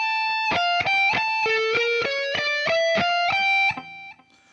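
Distorted electric guitar playing two measures of a minor chorus, a quick run of about a dozen picked, sustained notes stepping down then back up the neck, clear and steady before ringing out.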